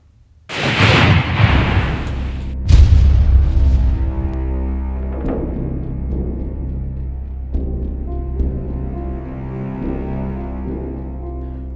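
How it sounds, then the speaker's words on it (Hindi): A sudden loud IED explosion booms, then a second blast follows, with a long rumbling roar that slowly fades while a low tone lingers; a roadside bomb targeting a security vehicle in Dantewada, Chhattisgarh. "नक्सलियों ने डीआरजी की गाड़ी को निशाना बनाकर आईईडी धमाका किया"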